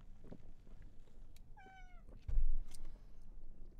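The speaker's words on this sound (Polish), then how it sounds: "Kot mi po prostu nie daje spokoju." A house cat meows once, a short rising-falling call heard fairly close against a low background hum, with a brief thump just after.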